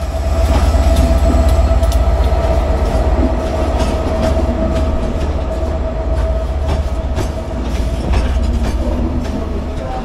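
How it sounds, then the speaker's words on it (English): A passenger train pulls into a station close by with a low continuous roar, faint rail clatter and a sustained tonal hum, no voices. "here it is pulling in on time from Cardiff Central"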